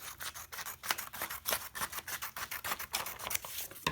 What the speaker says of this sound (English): Then I just cut a strip